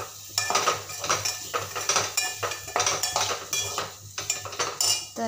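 A metal spoon scrapes and clinks against a pan while capsicum curry is mixed with spices, with repeated rhythmic stirring strokes, steady and close, with a faint sizzle beneath and no speech.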